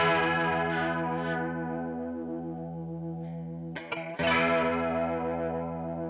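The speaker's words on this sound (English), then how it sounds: "Now you can hear that the lows of the chorus are gone." A guitar run through a Boss CE-5 chorus pedal with its low cut turned up, sustained chorused chords ringing with a thinned bottom end, briefly broken near the end before a fresh strummed chord swells back in, played alone.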